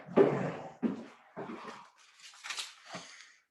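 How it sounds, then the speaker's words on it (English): A playful dog whimpers and gives short yips and grunts in several close bursts, with brief pauses between them. "The dog is determined to play."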